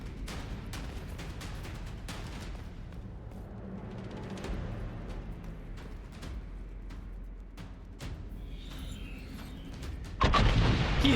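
Set charges detonating in the video game Dragon Age: Inquisition, a run of sharp booms and crackling blasts over a rumbling bed, ending in a louder burst of debris noise.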